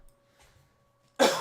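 A single sharp, loud cough bursts out abruptly after near-silence with a faint shuffle, then trails off raggedly.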